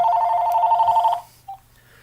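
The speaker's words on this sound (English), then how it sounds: "I got a phone call." Telephone ringing for an incoming call: a single loud, steady electronic ring lasting about a second, then it cuts off, followed by a brief faint chirp and near silence.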